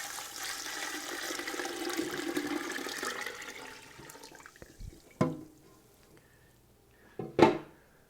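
A gallon of water pours into a pot holding lemon, orange and lime rind strips for a turkey brine, a rushing gush that tapers off, followed by a couple of sharp knocks.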